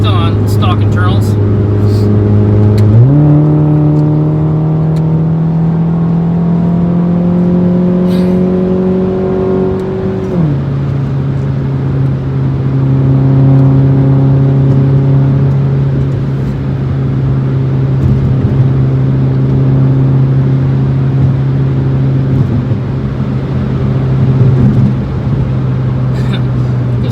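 A stage 3 2009 Mini Cooper S R56 engine drones steadily from inside the car during spirited driving, its pitch climbing under acceleration, then dropping at a shift and holding a loud, sustained hum.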